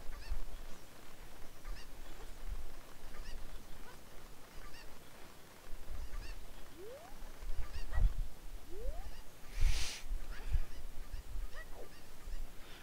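A cuckoo, the chicken from a Zelda game, gives a few faint, scattered clucks and squawks with quiet gaps between them and one brief brighter squawk near the end.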